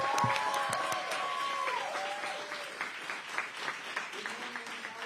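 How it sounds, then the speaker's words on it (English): Steady applause from an audience fills the room, with scattered cheers and voices rising over the clapping. "Come on, clap it up."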